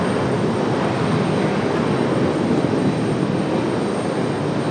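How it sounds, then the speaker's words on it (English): A Southwest airliner touches down on the runway at RDU, its engines giving a loud, steady broadband roar that holds evenly throughout with no talk over it. "smoky touchdown for Southwest"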